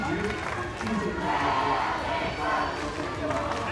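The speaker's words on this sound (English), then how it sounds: "Listen to this crowd." A crowd at the HADO World Cup final cheers and roars in a large arena, a continuous busy wash of voices that stays moderate in level while commentators talk over it.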